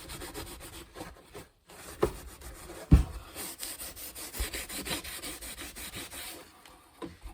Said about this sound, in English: I'm not wiping it off, I'm rubbing it in.